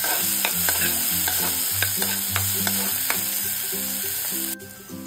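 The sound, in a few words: finely chopped onion and curry leaves frying in a pan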